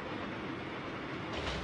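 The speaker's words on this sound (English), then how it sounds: "this is why the commuter trains are very crowded" A commuter train in Japan rumbles along in a steady, muffled roar with a low, continuous rolling drone, fairly quiet and unbroken by talk.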